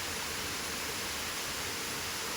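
A waterfall at Thanipadam in Thrissur district, Kerala, gives a steady, even roar of falling water, unbroken and fairly close, with no voices.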